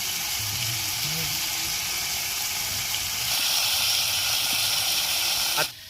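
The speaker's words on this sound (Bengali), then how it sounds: "আর এইদিকে আমাদের আলু ভাজা হচ্ছে।" Potatoes fry in a pan at a campsite in heavy rain, giving a steady, close hiss and sizzle that grows a little louder partway through and then drops off abruptly just before the end.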